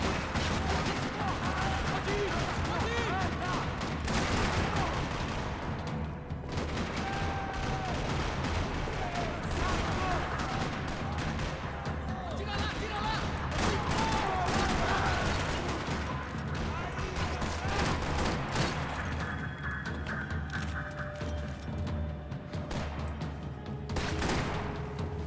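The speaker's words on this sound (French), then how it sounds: "Another parking lot rattling with gunfire." Max Payne 3 gunfight in a parking lot, with constant shots, automatic bursts and booms running throughout. Someone talks over the shooting.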